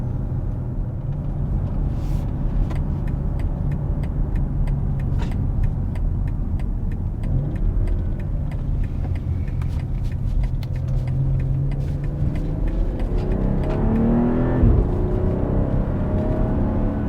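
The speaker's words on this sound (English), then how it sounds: "hear a few pops out of the exhaust" BMW X3 M40i straight-six engine and exhaust in Sport Plus mode, a steady loud in-cabin drone with repeated sharp ticks and pops, rising in pitch as it accelerates toward the end.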